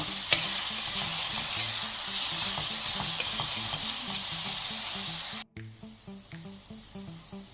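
Onions frying in a pan until golden brown for palak paneer, a loud steady sizzle with rhythmic stirring scrapes that cuts off sharply and then continues as quieter, softer frying with stirring strokes, no talk.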